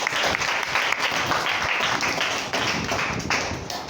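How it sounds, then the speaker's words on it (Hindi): An audience at a meditation class in a school hall claps steadily, a close, loud patter of many hands continuing without a break. "ताली बजाओ इनके लिए।"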